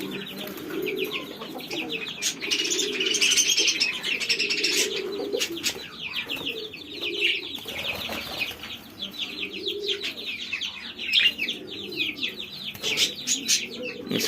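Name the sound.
pigeons cooing in a cage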